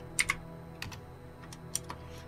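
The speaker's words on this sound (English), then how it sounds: "Oh, do I have to actually, like, type in..." Sparse, soft keystrokes on a computer keyboard enter a text-adventure command, several separate clicks with pauses between them over a faint hum.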